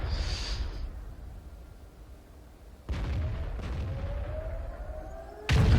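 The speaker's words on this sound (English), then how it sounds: "And I shoot, and I hit him." A Lorraine 155 self-propelled artillery gun fires in World of Tanks: deep booming blasts over a continuous rumbling engine background, with one heavy shot near the middle and another at the end.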